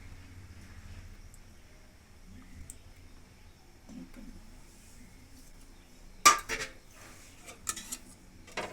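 Boiled, peeled eggs tumble into a pan of simmering egg curry, making a sudden clatter followed by a few smaller knocks and bumps against a quiet kitchen background.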